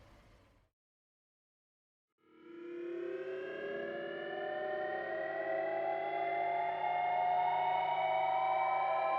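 Alarming, siren-like music composed for the trailer of the Michael Bay film Ambulance swells in after about two seconds of silence, a dense layer of rising, wailing tones that holds steady and loud to the end.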